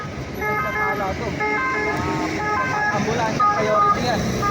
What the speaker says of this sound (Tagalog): Priority ambulance.